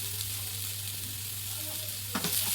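Potatoes being stirred and mixed in a frying pan over low heat, a soft steady sizzle with scraping strokes, a brief louder scrape near the end.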